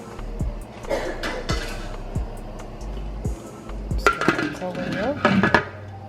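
A lid being set over a pot of seafood boil, heard as a run of close metallic knocks and clanks of cookware and utensils, with a rattling cluster near the end.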